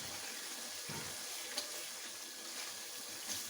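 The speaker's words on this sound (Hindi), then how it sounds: "अब इसको मीडियम फ्लेम पे हम अच्छे से भून लेते हैं" Keema and kachnar (minced meat with bauhinia buds) frying in a pan over a medium flame, giving a steady, fairly quiet broadband sizzle with a couple of faint clicks and no talking.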